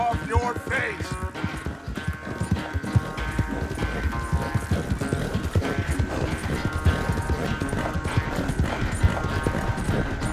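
Horse hooves clip-clop steadily on a trail in the Red Dead Redemption 2 western game, a continuous loud rhythmic plodding of a ridden horse with a snort, mixed under music and ambience.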